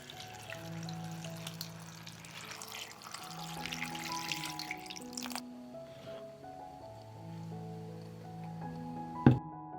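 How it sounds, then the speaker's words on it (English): Water poured into a pot over chopped cabbage, a steady splashing pour under background music that stops partway, followed by a single sharp knock near the end. "I will pour water into the pot to cover the cabbage."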